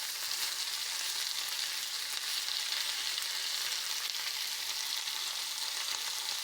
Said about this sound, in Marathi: लाल होईपर्यंत त्याला फ्राय करून घ्यायचे भाजून घ्यायचे